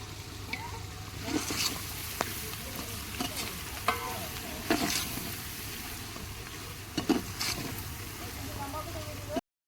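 Onion with turmeric and spice masala frying in a pan, a soft continuous sizzle with intermittent scraping stirs and clinks, fairly quiet and close.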